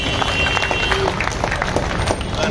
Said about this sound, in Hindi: तो आप लोगों ने ताली नहीं बजाया।